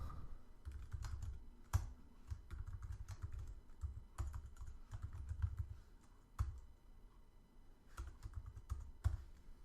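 Quiet, rapid typing on a computer keyboard while coding an iPhone app, a continuous patter of soft key clicks with a few sharper taps, close and alone without talk.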